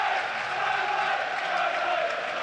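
A football crowd at Turf Moor, Burnley, on Premier League final day against Newcastle makes a dense, continuous roar of applause and noise as substitutes come out, with a voice talking over it.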